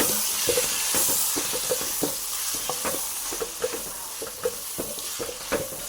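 Tomato pieces with turmeric are stirred in a hot pan for sambar, a steady close sizzle broken by regular scraping strokes of the spoon.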